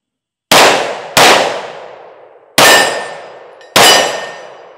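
Smith & Wesson M&P Carry Comp pistol rounds striking steel plates, with four sharp, loud metallic clangs, each ringing and fading, the first two close together and the last two after a pause.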